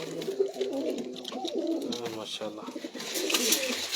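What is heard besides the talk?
pure Batera pigeon cooing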